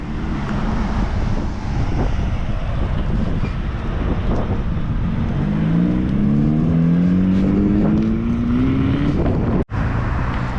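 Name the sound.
slammed Daihatsu minivan driving past at a car show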